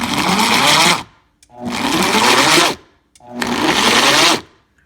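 A Vitamix blender kneads bread dough in three loud bursts of about a second each, a heavy laboring motor roar with churning thuds, separated by short silences.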